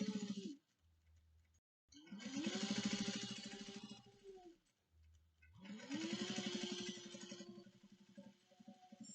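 A sewing machine back stitches a seam on a Sahara bag, running in two separate bursts of a few seconds each, with short stops and faint clicks between them.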